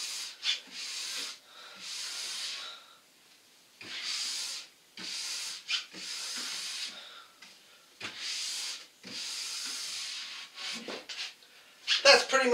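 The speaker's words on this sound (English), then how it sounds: "just do long firm strokes down the ski, just polishing up the base." A brush rubs along a ski base in long, firm strokes, making about ten soft, close, breathy swishes in an even back-and-forth rhythm, ending with a few quick light scrapes.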